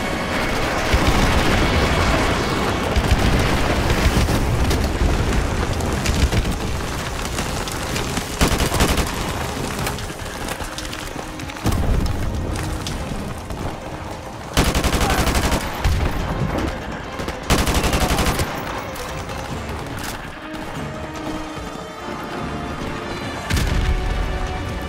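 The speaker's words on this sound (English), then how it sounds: "Target confirmed. Stand by for airstrike." Call of Duty campaign battle: a continuous loud barrage of gunfire and machine-gun bursts punctuated by heavy airstrike explosions and booms, close and dense throughout with no pauses.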